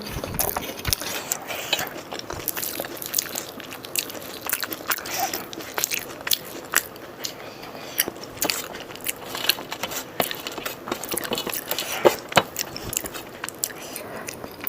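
Close, steady chewing of dal and rice, with soft crunches and wet mouth sounds running continuously and quite loud, and no speech over them.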